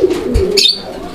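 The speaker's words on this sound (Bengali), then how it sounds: "একদম চমৎকার একটা রেড কালারের লাহোরি কবুতরের জোড়া" A pair of red Lahori pigeons kept indoors in a room gives a short, close, loud coo with soft throaty murmuring.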